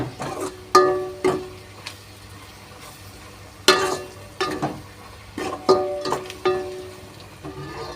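Spice powders fry in oil for a tangy tamarind kara kuzhambu with bitter gourd, a soft sizzle broken by sharp clinks and scrapes of a spoon stirring against the pan at uneven intervals.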